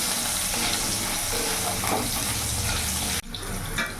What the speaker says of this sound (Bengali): ওই তেলের মধ্যেই আমি এখানে আলুগুলোও ভেজে নেব।